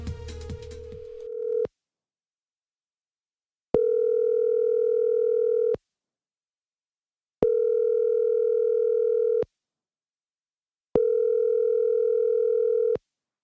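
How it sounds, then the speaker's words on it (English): A telephone ring in a country song plays as four evenly spaced long electronic tones, each lasting about two seconds and separated by silent gaps, loud and clean with nothing else under them after a brief opening burst of music. "you're going to hear the phone start ringing"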